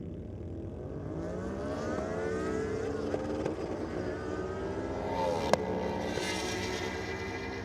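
A drag racing car launches off the start line at a Sydney Dragway championship event, its engine note climbing in a loud rising howl that sweeps upward over several seconds, with a sharp crack partway through.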